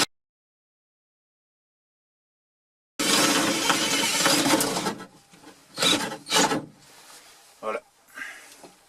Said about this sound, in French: il n'y a plus qu'à percer ce qui reste de la tête du rivet.